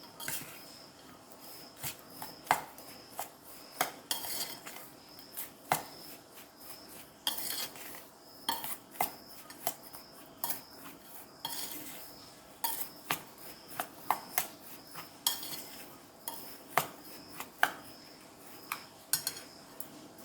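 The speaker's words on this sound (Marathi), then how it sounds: "पिठी साखर, हे भाजलेला रवा, मैदा, रवा आणि ड्रायफ्रूट घेतले। आपण हे सर्व मिक्स करून घेणार आहोत।" Powdered sugar, roasted semolina, flour and dry fruits stirred together in a metal bowl, with repeated close scraping and clinking of a spoon against the dish in an irregular rhythm.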